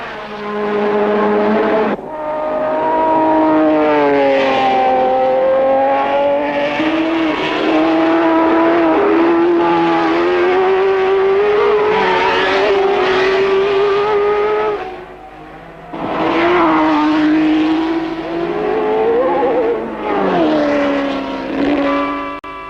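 1967 Formula 1 race cars at the German Grand Prix roar past in a loud, continuous engine howl whose pitch sweeps up and down through gear changes, dipping briefly before surging again.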